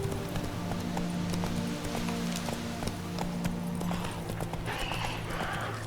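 Galloping horse hooves clip-clopping in a steady rapid rhythm in The Witcher 3: Wild Hunt, close and continuous, with a brief whinny-like tone near the end.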